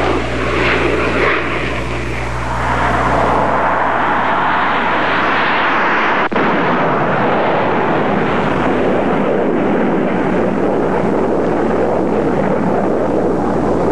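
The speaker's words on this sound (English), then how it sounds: "The RF-4C is the newest Air Force reconnaissance aircraft." A USAF RF-4C reconnaissance jet, a Vietnam-era aircraft, flies past with a loud, steady roar that swells and holds for about fourteen seconds, with broad engine rumble and some wind noise and no talking.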